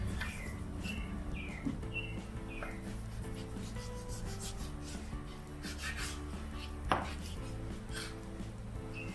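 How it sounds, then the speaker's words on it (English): Meat chopped into small chunks on a board for a grinder, with repeated knife strokes and scraping in an uneven rhythm, close and moderately loud, plus faint chirpy background tones. "now we just want to start breaking this down into small, manageable chunks for the grinder"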